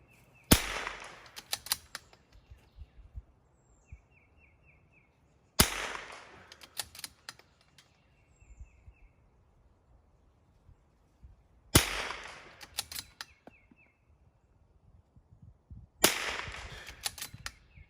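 Rimfire rifle shots fired at targets during precision training, four sharp, loud cracks spaced several seconds apart, each trailing a short echo, with faint metallic pings and clicks in between.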